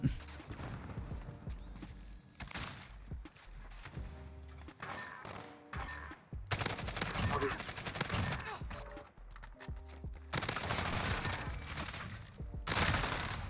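Fennec submachine gun fire in a Call of Duty-style shooter, rapid bursts of automatic shots with mechanical clatter and thuds, repeated in clusters, fairly loud against a quiet game background.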